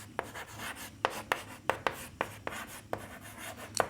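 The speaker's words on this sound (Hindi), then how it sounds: "तो हम यहाँ पे लिखेंगे मल्टीप्लाइंग" Chalk or marker strokes on a classroom board while a linear equation is worked out, with a steady run of about a dozen sharp, short taps and scrapes in irregular rhythm, close and moderately quiet.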